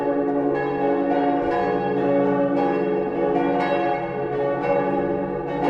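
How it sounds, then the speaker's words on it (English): Church bells ring out across the medieval walled town of Vannes in Brittany, steady and resonant with overlapping tones that sustain throughout, moderately loud and slightly distant. "I have no idea where the bells are ringing"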